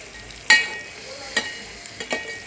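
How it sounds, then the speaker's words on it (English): Spoon stirring rice with a beef seasoning cube in a pot, a few soft scraping strokes and light clinks against the metal over a quiet background. "stir everything all together,"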